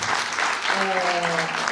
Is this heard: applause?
yes